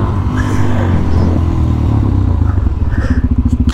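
A motorcycle engine idles close by and then revs, its loud pulsing exhaust throb growing choppier and more rhythmic toward the end.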